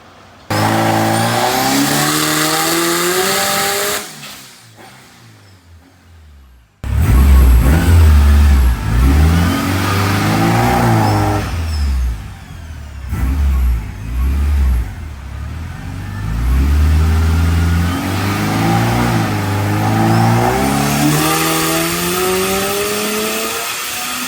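A turbocharged K24-engined BMW E30 revs hard repeatedly on a dyno, rising and falling in loud surges, with a brief lull before climbing again to high, roaring revs.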